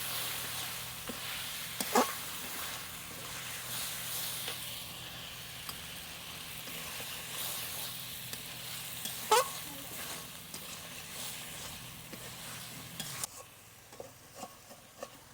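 Pork frying in a pan with ginger, cumin, garlic and chilli masala, a steady sizzle and hiss with occasional stirring scrapes, and the frying dropping away near the end.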